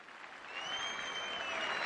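A crowd at a Çanakkale naval victory anniversary ceremony applauds the children. A brief, dense burst of clapping swells quickly, with a high whistle cutting through.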